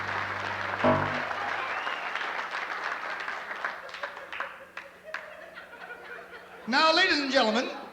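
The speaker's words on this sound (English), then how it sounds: "could we have a nice round of applause for his lordship, Lord Charles Windermere" An audience at Victoria Hall applauds the performer Lord Charles Windermere, a dense patter of clapping mixed with chuckles and laughter that gradually thins out before a voice begins speaking.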